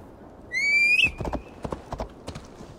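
A horse in Assassin's Creed Valhalla whinnies with a high, wavering call, followed by a few close, separate hoof clops, with no talk over them.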